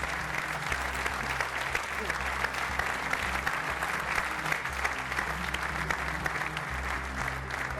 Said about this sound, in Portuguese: já agora um aplauso